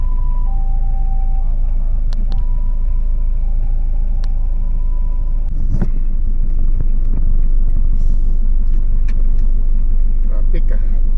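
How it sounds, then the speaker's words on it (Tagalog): Steady road traffic with car and truck engines rumbling close by, a continuous low drone throughout, with people talking over it. "Traffic ah."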